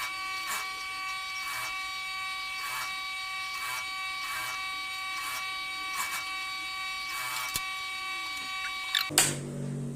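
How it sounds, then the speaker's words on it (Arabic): Sewing machine stitching fabric from the inside of a hijab-and-trousers set, a steady high mechanical whir with faint rhythmic ticks, close and continuous, ending in a brief clatter. "نخيط من الداخل."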